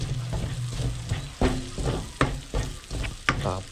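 Pork and onions fry in a pan for a Humba dish, a close crackling sizzle punctuated by several sharp scraping stirs.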